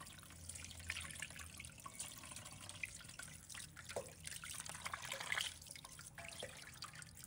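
Tap water runs in a soft, continuous trickle and splash at a kitchen sink while a golden pompano fish is rinsed clean. The sound is faint and steady, with no voices.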